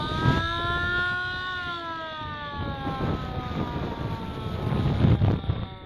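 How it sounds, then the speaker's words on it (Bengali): Strong wind roars across a boat on a haor wetland while a siren wails with rising and falling tones, both loud and continuous throughout. "কি পরিমাণ বাতাস হতেছে যে আমি আমি আমার নিজের বলা কথাও শুনতে পাচ্ছি না। সঙ্গে তো সাইরেনের শব্দ আছেই"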